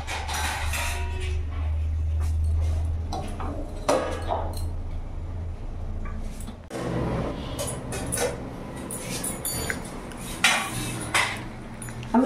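A metal lid clanks onto a cooking pot of potato and cauliflower curry on a gas flame, a few clear metallic clinks and knocks standing out over low burner hum and faint kitchen noise, with no talking.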